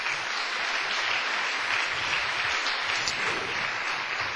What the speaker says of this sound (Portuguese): Então dá uma salva de palmas para o Senhor.